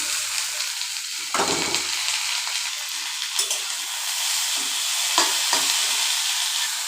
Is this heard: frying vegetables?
yes